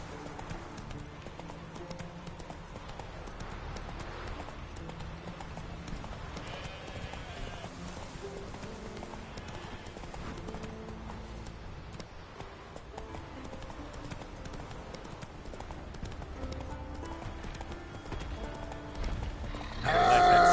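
A horse gallops in The Witcher 3, its hooves a steady, rhythmic clip-clop that stays faint and even under the game's ambient background.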